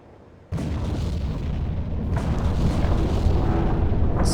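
Explosions rumble nearby in the WWII submarine game Silent Hunter 3: a sudden loud boom, then sustained heavy low rumbling with a few sharper cracks, no talking.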